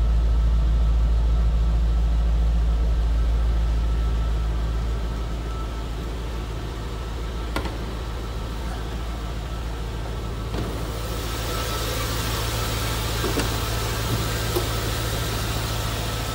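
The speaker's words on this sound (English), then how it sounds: "Nice sounding 5-liter or 350 cubic inch V8." A 5-liter, 350 cubic inch V8 running with a stock-style exhaust, a low steady rumble that is loud at first and then settles into a quieter continuous idle, heard nearby with a few faint clicks.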